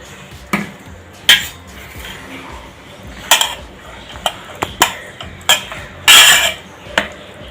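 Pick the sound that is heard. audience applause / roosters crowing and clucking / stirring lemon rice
stirring lemon rice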